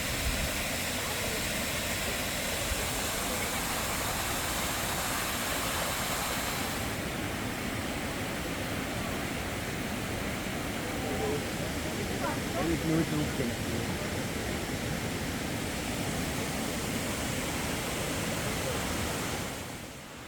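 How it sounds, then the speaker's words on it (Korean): Veliki Prštavac, a 28 m waterfall among mossy, densely wooded upper lakes, roars as a steady broadband rush of falling water that fills the whole stretch, constant and fairly loud, fading slightly at the very end. "베리카 프루슈타바츠 폭포는 상부호수 최고 명소로 꼽힙니다."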